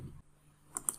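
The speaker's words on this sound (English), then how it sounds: "So I go to my desktop and I double click." A computer mouse gives two quick, faint clicks in close succession at a desk, after a brief murmur of background noise.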